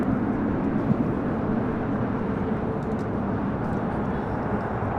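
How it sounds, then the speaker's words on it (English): An Alaska Airlines Boeing 737-800 departing LAX, bound for Newark, produces a loud, continuous low rumble of jet engines that stays steady and broadband with no talk over it. "Next departure here on the south side is Alaska Airlines Flight 286, heading to Newark"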